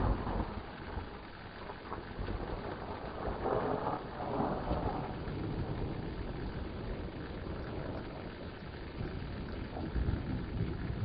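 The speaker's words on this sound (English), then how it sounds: "that thunder lasts for a while" Long, low thunder rumbling steadily for many seconds, distant and rolling, with rain hissing faintly underneath.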